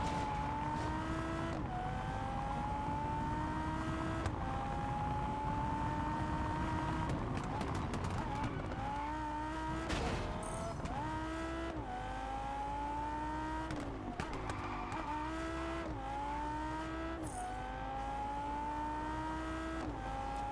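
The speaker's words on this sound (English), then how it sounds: "It's a Lamborghini Huracan." A Lamborghini Huracan's engine in the racing game Test Drive Unlimited Solar Crown, revving steadily through repeated upshifts, its pitch climbing then dropping with each gear change, a continuous loud drone under occasional talk.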